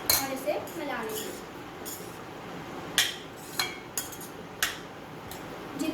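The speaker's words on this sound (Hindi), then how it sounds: "अब हम इसमें नमक डालेंगे स्वाद अनुसार और इसे मिला लेंगे" A spoon clinks against a bowl while salt is mixed into a vegetable momo filling, with four or five sharp taps in the second half over steady room noise. A voice is briefly heard near the start.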